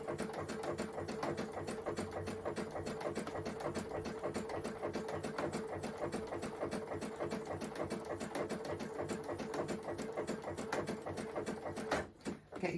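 Domestic sewing machine stitching a stretched knit neckband onto a t-shirt neckline, a steady fast needle chatter running close and continuous before a brief pause near the end.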